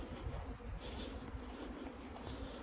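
Honeybees buzz at an apiary as linden trees begin to bloom, a dense continuous hum from many insects close by, heard without speech.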